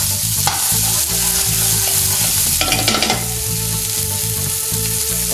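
Garlic and ginger paste hits hot oil with a loud, close, continuous sizzle and crackle, and a brief burst of stirring and spattering partway through, with no talking.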